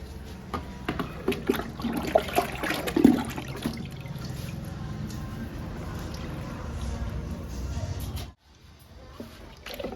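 Aloe vera liquid pours onto potted tulsi plants with a steady splashing trickle for several seconds, then stops abruptly, leaving a faint background hum.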